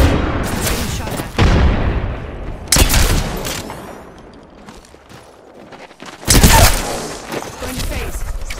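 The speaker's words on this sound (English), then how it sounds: "Getting shot at." Rapid bursts of gunfire from an Apex Legends firefight, with loud clusters of shots near the start, around three seconds and again after six seconds, separated by quieter stretches.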